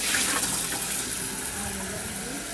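Water rushes steadily into a food processor being filled with soap and water for cleaning, a continuous loud gushing splash close by for the whole stretch.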